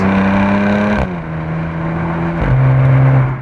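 A supercharged Audi S4 engine revs hard under acceleration, a loud, close, droning whine with steady tone that drops briefly at two gear shifts before climbing again.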